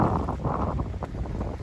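Steady wind buffeting a microphone on a boat at anchor, a continuous low rumble with faint sloshing and creaks, no voices.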